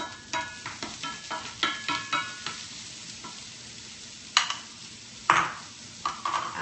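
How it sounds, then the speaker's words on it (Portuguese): Onion sautéing in olive oil in a frying pan, a steady sizzle broken by repeated scraping stirs and clacks of the utensil against the pan, close and fairly loud with no talking. "Azeite na frigideira. Daí nós vamos refogar cebola."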